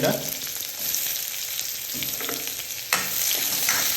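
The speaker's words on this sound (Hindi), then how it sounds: "तेल भी गरम हो गलान तापर यहाँ प्याज दौचे" Onions sizzle steadily in hot oil in a village kitchen, a close, continuous frying hiss with occasional stirring scrapes and one sharp clatter.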